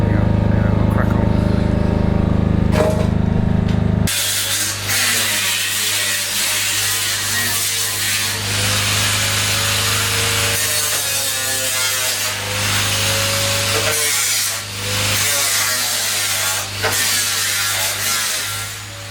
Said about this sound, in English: Right, that's the first bit of sanding done.